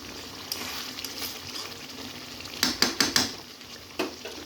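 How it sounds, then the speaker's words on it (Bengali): Potato chicken curry with raw spices stirred in a pot, with a soft sizzle underneath and a quick cluster of sharp spoon-on-metal clanks, then one more scrape a moment later, heard up close without talk. "এভাবে একটু করে করে আবার নাড়াচাড়া করতে হবে যেন নিচে না লেগে যায়।"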